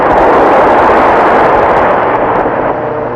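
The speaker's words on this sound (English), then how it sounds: "they had observed what appeared to be an atomic explosion" An atomic explosion rumbles as a loud, sustained roar, a dense wall of noise that holds steady and then tapers slightly at the end, with no voices present.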